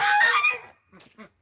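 Geese kept with ducks and chickens let out in the morning give a loud, close burst of harsh honking, followed by a few fainter short calls.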